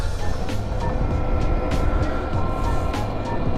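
A Honda CRF-E2 electric youth dirt bike ridden at full throttle uphill, a loud continuous rumbling drone of motor, tires and wind rush with scattered clicks and rattles over rough ground, no talking.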